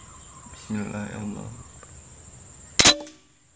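A single sharp gunshot cracks out close by while hunting pink-necked green pigeons under an overcast sky, following a faint voice and with insects buzzing steadily in the background.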